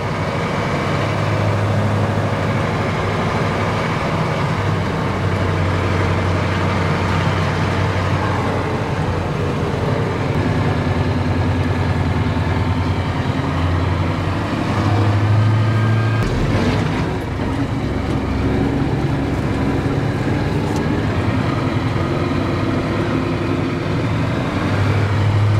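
Truck engine idling through a homemade vertical exhaust, a deep, steady low rumble that runs continuously and fairly loud for the whole stretch, with a brief shift in tone midway and no talking.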